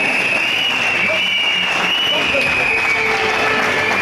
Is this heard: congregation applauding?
yes